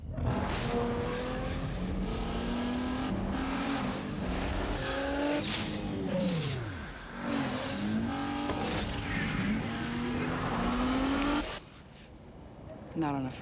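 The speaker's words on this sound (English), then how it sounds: "The 265 horsepower Nissan Maxima." A 265-horsepower Nissan Maxima driving hard, engine revving up and down with squealing tires and sliding pitch sweeps, loud and close, overlaid by music and a brief voice in a TV commercial.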